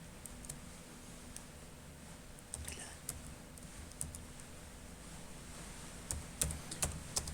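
Someone types a customer name into an Excel spreadsheet on a computer keyboard, quiet irregular key taps in short bursts that grow a little busier toward the end.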